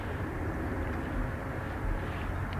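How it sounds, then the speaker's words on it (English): American Airlines Boeing 777-200 on its takeoff roll at Dublin Airport, a steady broadband jet roar with heavy low-end rumble, moderately distant and sustained without pauses, with no voices over it. "American 725 off to Charlotte. A 777-200"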